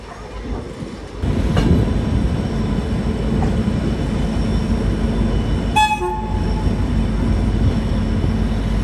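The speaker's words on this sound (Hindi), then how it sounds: "ये मेरे को स्पेशल ट्रेन लग रही है।" A passenger express train runs from KSR Bengaluru toward Hubballi Junction with a continuous close rumble and rail clatter. A brief horn toot sounds near the end.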